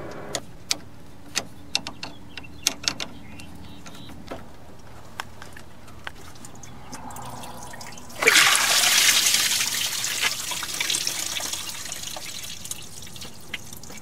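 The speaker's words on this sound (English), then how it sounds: "I'm just going to keep doing this until no more gross, rusty stuff comes out the lower radiator hose" Water from a car's lower radiator hose drips into a bucket at first, scattered plinks, then a sudden gush pours and splashes steadily before easing off, close and fairly loud.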